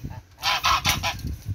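Geese kept free-ranging on a farm honk in a quick run of four or five loud, nasal calls close by, with quieter rustling background before and after.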